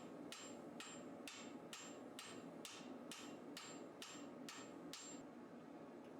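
Hammer blows forging a shinogi-zukuri katana blade on an anvil, about ten evenly spaced ringing strikes near the tang end, each with a bright metallic ring, loud and close with no talk.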